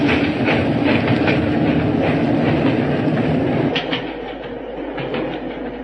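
Steady clattering train noise as a radio drama effect, a locomotive and cars rolling along rails with rhythmic clicks, loud and continuous, easing slightly toward the end.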